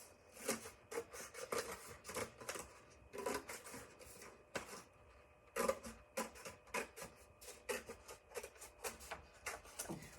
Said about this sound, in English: we're going to cut the orange paper plate in half